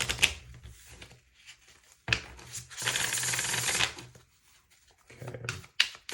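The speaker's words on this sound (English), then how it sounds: "I'm going to give this deck a good shuffle" A deck of tarot cards is shuffled in several crisp bursts: quick riffling and clicking, then one longer sustained shuffle, and a few sharp card snaps near the end.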